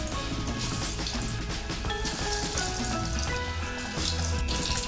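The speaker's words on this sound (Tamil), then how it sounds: "எண்ணெய் நல்லா சூடாயிடுச்சு. நம்ம இப்போ சிம்மில் வச்சிடலாம். சிக்கன் பீஸை ஒன்று ஒன்றா உள்ளே சேர்த்துடலாம்." Chicken 65 pieces deep frying in hot oil on a low flame, a dense continuous sizzle and crackle heard close up without talk.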